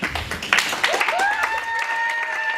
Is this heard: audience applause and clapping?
yes